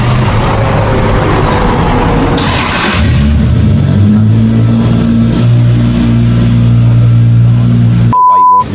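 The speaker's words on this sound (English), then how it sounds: "this is another Supra that Smokey made, top secret" A Smokey Nagata Top Secret Toyota Supra's engine revs loudly and up close, rising and holding at a high pitch, then the sound cuts off abruptly into a brief electronic beep.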